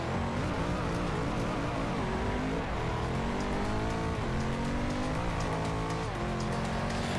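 A high-revving hypercar engine in Forza Horizon 2, loud and continuous, with rising pitch sweeps as it climbs through gears and faint tire squeal.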